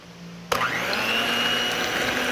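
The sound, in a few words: electric cake mixer mixing cake batter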